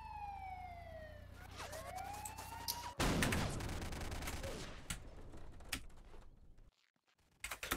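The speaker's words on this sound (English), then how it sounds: "Oh shit, we're being shot." Gunfire in the video game Apocalypse Rising: a sharp crack then a dense burst of shots over a wailing siren, trailing into scattered pops before a brief silence.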